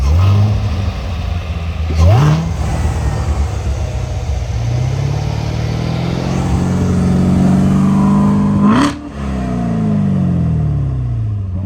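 A Chevrolet Corvette C7 Z06 engine runs loud and close, revving sharply near the start, settling into a rising drone, then blipping hard again before falling back to idle, with voices talking in the background.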